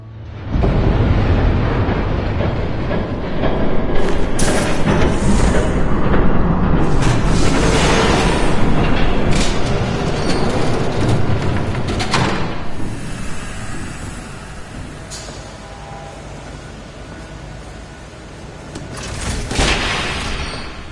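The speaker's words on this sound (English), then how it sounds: "There's a train coming. Take cover." A train thunders past in the Batman Telltale Series video game, a loud, continuous rumbling roar with rattling bursts that swells and fades over about twenty seconds.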